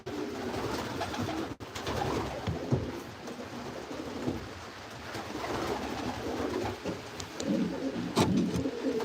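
Racing pigeons coo softly in their loft, low repeated throaty calls that overlap and come from close by, with faint rustling in between.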